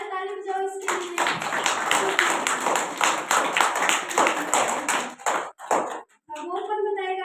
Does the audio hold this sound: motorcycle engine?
no